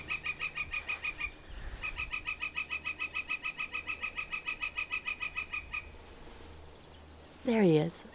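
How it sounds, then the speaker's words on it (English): Birds chirp in fast, regular bursts of repeated high calls, pausing briefly, then end with a loud, sweeping downward call. "Can you hear birds flying around?"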